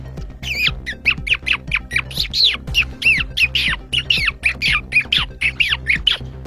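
A voice imitates a bird with rapid, high squawking chirps repeated in quick bursts for several seconds, close and fairly loud.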